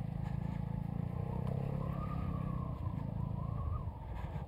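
A Vespa GTS 300 scooter is ridden over a potholed road, its engine a continuous loud drone with shifting pitch as it weaves along, heard alone without talk.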